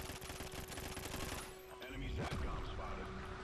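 Rapid automatic gunfire in the Call of Duty Ghosts shooter sounds as a dense rattling burst for about a second and a half, then dies into a quieter mix of game noise with a brief swooping effect.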